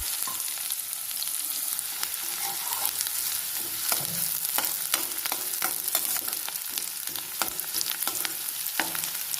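Chopped onion frying in hot oil with whole spices such as clove, cinnamon, bay leaf and cardamom, a steady close crackling sizzle broken by frequent sharp stirring scrapes and taps, with no talking.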